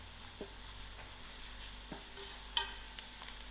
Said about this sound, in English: To my oil, I'm also going to put in my hurdee. Give this a good mix.